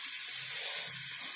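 Water hissing and steaming in a hot omelette pan gives a steady, bright sizzle with a soft, rushing texture, close and continuous for the whole moment with no talking.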